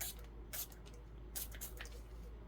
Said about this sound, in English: So I'm just going to spritz it with alcohol.